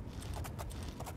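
Horse hooves clip-clop in the Oblivion video game, a short run of steady rhythmic footfalls close by over a low background rumble, with no talking.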